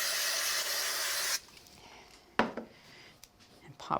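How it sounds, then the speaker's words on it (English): A steady hiss from a spray bottle lasts just over a second while spraying layered craft pieces, then stops, followed by quiet handling noises and soft rustles. "Give them a spray."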